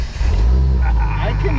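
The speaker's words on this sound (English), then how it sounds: "I cannot believe it just starts right up." A Jeep Wrangler engine starts and settles into a steady low idle rumble, close and fairly loud, with a voice talking briefly over it.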